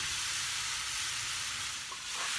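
Shiitake mushrooms stir-fry with oyster sauce in a hot pan, a steady bright sizzle and hiss running continuously, with a faint stir or scrape near the end and no talking.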